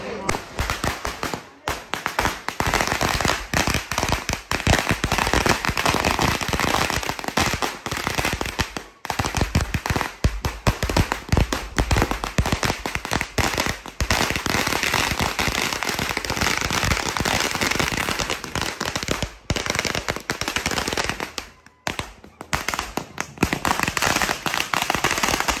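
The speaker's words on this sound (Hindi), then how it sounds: "ये देखो शुरू हो गए पटाखे" Long strings of firecrackers burst nonstop during a palanquin procession at a temple in Vasai, a dense, loud, crackling barrage with only brief gaps, and voices are faintly mixed in.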